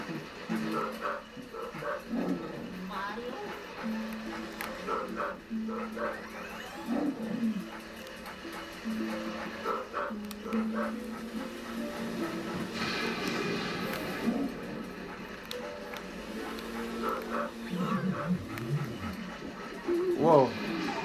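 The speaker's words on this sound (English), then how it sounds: "Oh, there's the dog." A dog barks and growls within Luigi's Mansion, the video game, mixed with game music and effects while a player talks over it throughout.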